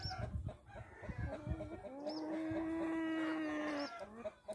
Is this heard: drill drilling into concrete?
no